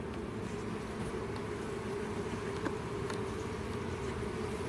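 Honeybees from a hive being removed from a trailer in Florida buzz in a dense, unbroken drone close by, holding steady throughout with faint clicks and knocks at the edges.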